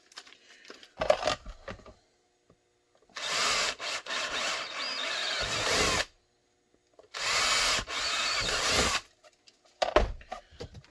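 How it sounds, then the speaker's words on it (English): A power drill bores holes into a workpiece in two sustained loud bursts of whirring and grinding, separated by brief handling clatter and quiet gaps. "So I will drill these holes"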